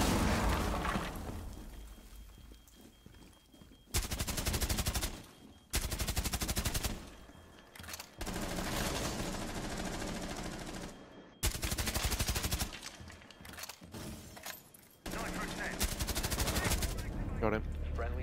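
Suppressed gun firing in Rainbow Six Siege, repeated bursts of rapid muffled shots in several stretches separated by short pauses, loud and close over busy game sound.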